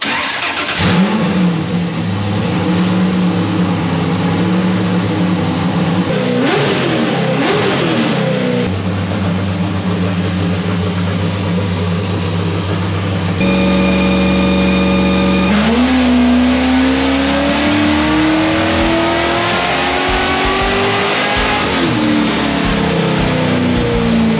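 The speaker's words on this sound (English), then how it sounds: "So yeah, excited to make a racket on our dyno." A Nissan S13 engine revs hard on a dyno, loud and close throughout, with sustained high-rpm roaring, sudden pitch shifts, and a rising sweep as the revs climb.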